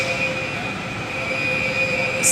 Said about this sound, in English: See, there goes the alarm again.